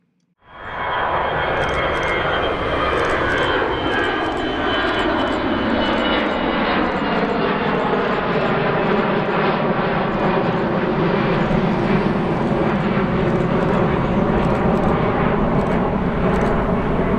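A Delta Air Lines Airbus A321 airliner takes off on its delivery flight from the Airbus assembly site in Mobile, its engines roaring loud and steady for the whole stretch with a sweeping rumble as it climbs away.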